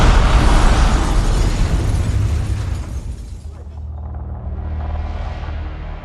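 A briefcase bomb detonates in a wartime reconstruction test, a loud broadband blast that rolls into a long, fading rumble and debris noise over several seconds.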